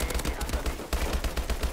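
Rapid bursts of laser gun fire in the Call of Duty Advanced Warfare Exo-Survival video game, quick repeated shots in a steady rhythm, loud and close.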